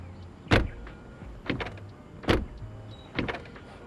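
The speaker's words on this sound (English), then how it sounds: "I just hope, however, that the electric actuator doesn't sound as cheap as this." Electric door handle actuator on a 2022 BMW iX xDrive40 EV, giving four short, close whirring clicks spaced roughly a second apart, with nothing else but faint background hum.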